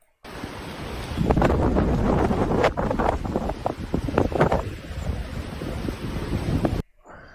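Strong gusting wind buffets an outdoor microphone with a roaring, rumbling rush that swells and drops for several seconds, then cuts off abruptly.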